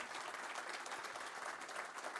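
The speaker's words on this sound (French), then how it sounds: "Je vous demande d'applaudir nos intervenants" An audience applauds the speakers at the close of a plenary round-table session at an energy forum, a steady dense wash of clapping from many hands that holds at an even level throughout.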